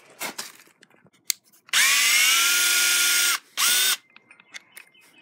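A power tool unbolting the stock shocks from an RC car, two bursts of high whirring spin, one long and one short, between small clicks and rattles of handling parts.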